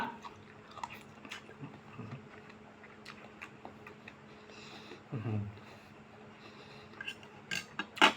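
Close, moist chewing and biting of rice with a spicy beef dish at night, with soft smacking mouth sounds and a few faint utensil clicks in a quiet room.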